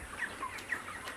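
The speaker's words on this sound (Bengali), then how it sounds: "আমার মুরগির বয়স আজকে 31 দিন বয়স।" Chickens on a poultry farm, about 31 days old, give a few short soft clucks over a low background hum, faint and brief.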